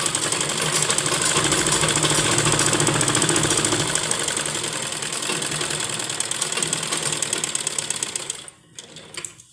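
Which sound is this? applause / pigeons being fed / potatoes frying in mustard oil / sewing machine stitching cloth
sewing machine stitching cloth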